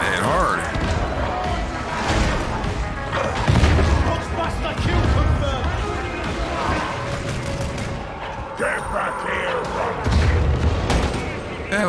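Gunfire and explosive booms from Warhammer 40,000 Darktide combat, dense bursts and crashes layered throughout under continuous loud voice chatter.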